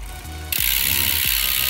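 Freewheel of a SAVA Pro6.0 full-carbon road bike with a Shimano 105 drivetrain and 5 cm deep rims ticking in a steady, fast ratchet, close and clear, with a couple of low thumps partway through and no voices.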